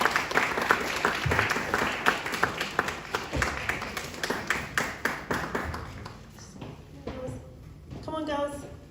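Applause from an audience at a Leicester panel event as women come up onto the stage, steady dense clapping throughout with crowd voices calling out underneath and chatter toward the end.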